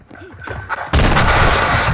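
Gunfire in Call of Duty: Modern Warfare II, a few faint shots and a murmuring voice, then a sudden loud, sustained burst of close-range firing that fills the last second.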